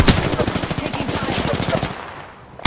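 Rapid automatic gunfire from an Apex Legends firefight, a loud sustained burst of closely spaced shots for about two seconds, then cutting off into quiet.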